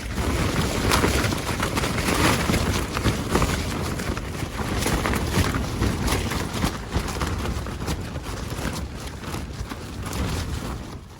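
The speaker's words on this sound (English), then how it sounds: "I'm sure you can hear the wind in the background." Strong wind roars steadily across a mountaintop campsite in the Long Range Mountains, a loud, constant broadband rush with gusty buffeting on the microphone and no voices.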